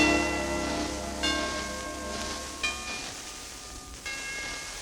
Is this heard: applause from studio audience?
no